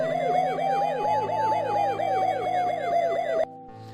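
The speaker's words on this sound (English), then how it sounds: "Jump in the ambulance and respond code 3 to the hospital." Wailing ambulance siren from the Police Quest 3 computer game, a steady electronic yelp sweeping up and down in rapid cycles, loud and continuous before cutting off abruptly near the end.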